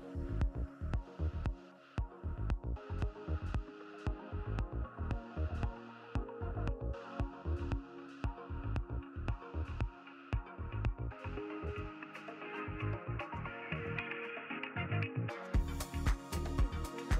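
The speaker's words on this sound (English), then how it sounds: "Using powerful vibration technology, it pops ripe cherries while protecting delicate branches." A cherry harvester shakes orchard trees with powerful vibration, giving a loud, steady throbbing drone pulsed by rapid rhythmic beats that run throughout, with a brighter rattling texture near the end.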